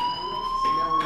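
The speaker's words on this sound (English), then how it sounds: "do you hear that fire alarm? That means you should be outside." A fire alarm sounds in the video game Life is Strange, a steady high electronic tone held throughout, fairly loud, with faint voices beneath it.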